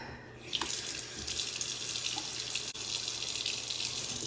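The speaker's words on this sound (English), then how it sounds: "So, I'm going to get my face wet." Tap water runs steadily from a faucet into a bathroom sink while someone wets their face, making a continuous close hiss and splash with no talking.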